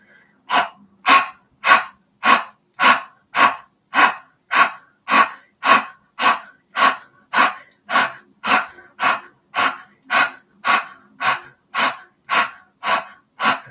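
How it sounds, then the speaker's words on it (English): Rapid Kapalbhati yoga breathing during a seated session: about twenty-five sharp, forceful nasal exhalations in a steady, even rhythm, close and clear, with no talking. "we'll do one more round of Kapalbhati breathing"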